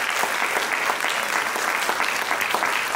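A large audience applauds at a medical college and hospital's Independence Day celebration, honoring a doctor. The clapping is loud and continuous, a dense crowd sound that holds level for the whole stretch.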